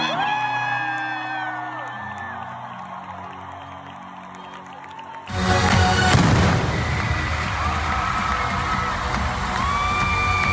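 A large concert crowd erupts into loud cheering and whooping partway through, after a quieter stretch of music, and keeps roaring to the end.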